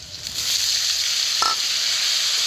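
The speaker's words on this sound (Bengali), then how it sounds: "আমি এইটার সাথে একবারে ফুলকপিগুলো দিয়ে দিচ্ছি" Cauliflower florets and potatoes fry in hot oil in a pan, a loud steady sizzle close by, with a brief scrape of stirring midway.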